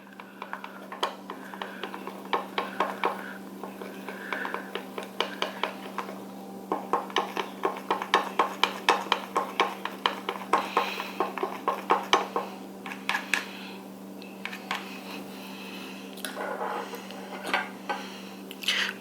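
Cream eyeshadow mixture being stirred in a small pot, a long run of quick light clicking and scraping taps against the container, close and fairly quiet over a constant low hum, with brief pauses.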